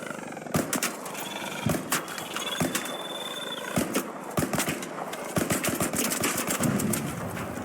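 A gun fires in the video game ARC Raiders in quick rhythmic bursts of sharp shots, loud and close, over background game ambience.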